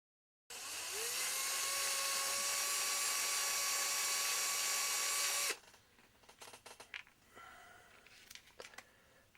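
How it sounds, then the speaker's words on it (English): A high-pitched small drill bores holes in plastic cylinders, running steadily for about five seconds, close and loud, then stops, followed by light clicks and handling noises. "I'll be drilling some holes in the back of the pistons, or the cylinders"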